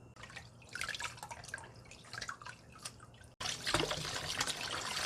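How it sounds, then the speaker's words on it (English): Cold water runs and drips steadily over boiled noodles, a trickling stream splashing into a sink, growing louder and fuller partway through as the flow strengthens. "Rinse in a cold water."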